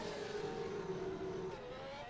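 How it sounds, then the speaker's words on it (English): Race car lapping the Jerez circuit during preseason testing, a steady high engine drone holding pitch for about two seconds, heard faintly at a distance. "In fact, there is Alex Moores going round now."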